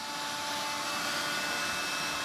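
A vacuum cleaner loaded with dust runs steadily and loudly throughout, a constant broadband whoosh with a faint whine and no breaks or voices.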